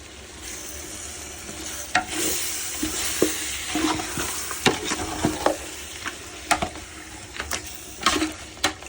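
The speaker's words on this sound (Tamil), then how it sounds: "தயிர் ஊற்றி நல்லா கிண்டணும் ஃப்ரெண்ட்ஸ்." Repeated scraping and clacking of a spoon stirring thick camel meat and yogurt in a pot for biryani, irregular strokes over a low simmering sizzle.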